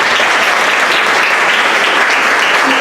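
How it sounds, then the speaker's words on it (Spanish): An audience at a book presentation on social transformation in Latin America bursts into steady, dense applause for a speaker, loud and continuous throughout with no voices over it. "Bueno, pues le damos un aplauso,"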